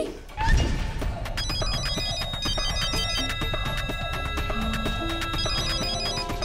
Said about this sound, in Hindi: तान्या का फोन है।